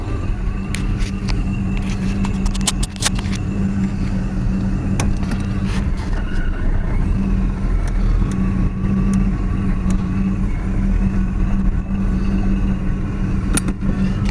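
A 2017 Power Tour Oldsmobile drives off, heard from inside the cabin as a steady low engine drone with occasional clicks and knocks and no talking.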